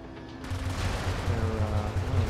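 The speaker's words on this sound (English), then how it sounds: "Held down the gun a little too much." A held-down gun in the mech game Brigador firing a rapid, steady stream of low thumping shots, close and continuous over a bed of rumble.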